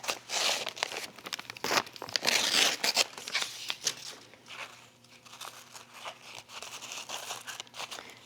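Embroidery stabilizer being torn away from the fabric around an embroidered design on pajama pant cuffs, heard as close, repeated crinkling and ripping bursts in an uneven rhythm, with no talking.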